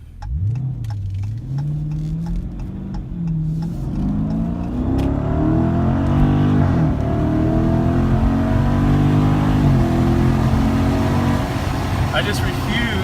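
A Dodge Challenger Scat Pack Shaker engine rises through repeated loud, close revs that climb and hold in pitch, with a voice talking over the deep V8 rumble.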